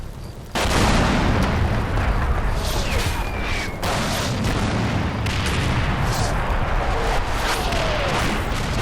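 A rolling artillery barrage rumbles through a Combat Mission: Red Thunder battle, heavy booms and blasts piling into a continuous loud roar with sharper detonations punching through every few seconds.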